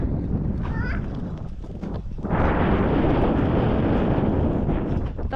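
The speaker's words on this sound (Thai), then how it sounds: "บรรยากาศลมหนาวมาแล้วพี่น้อง" Cold winter wind blows outdoors, buffeting the microphone with a loud, continuous roar that swells into a stronger gust partway through, and a voice is faintly heard early on.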